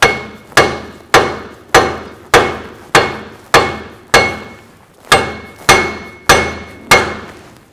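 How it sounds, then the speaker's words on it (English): A hammer taps steadily on the rear axle of a 2000-06 Chevy Tahoe to seat the axle C-clip: about a dozen loud, evenly spaced metallic strikes, each ringing briefly, close up and alone. "I'm going to have to give it a couple more taps so that I can get that C-clip in."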